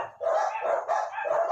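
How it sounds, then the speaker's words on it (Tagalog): A dog barks several times in quick succession at a live show, moderately close and standing out with no talk over it. "Ayan, may aso ha."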